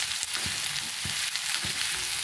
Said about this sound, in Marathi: हा कांदा आपल्याला छानपैकी खरपूस असा लालसर परतून घ्यायचा आहे